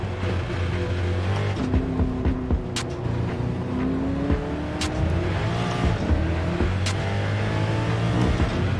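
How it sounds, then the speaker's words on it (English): Indy cars racing in Gran Turismo 7 roar continuously, engines whining as they rise and fall through gear changes, loud and unbroken with no talk. "Those Indy cars are loud."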